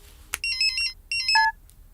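A phone ringtone plays nearby, bright repeating electronic chirps in two quick bursts ending on a held tone, preceded by a short click, with no voices.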